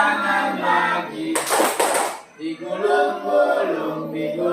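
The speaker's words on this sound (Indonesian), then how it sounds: "Tepuk tangan lagi." Children clap again in a classroom action song, a short burst of hand claps set between sung lines.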